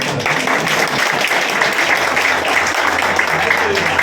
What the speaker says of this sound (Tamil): கைத்தட்டலே செய்யுது